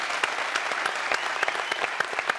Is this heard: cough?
no